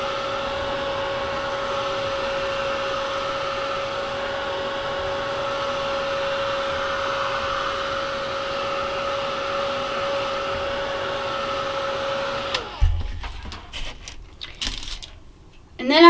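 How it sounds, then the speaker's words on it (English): A heat gun drying milk paint on a wooden birdhouse gives a steady, loud, close blowing roar for about twelve seconds, then cuts off into scattered handling and rustling noises. "I'm just going to go ahead and use my heat gun."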